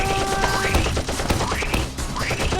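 Gunfire from the Roblox game Escape from the Prison rattles out in rapid, overlapping bursts of sharp cracks, loud and dense over game sounds.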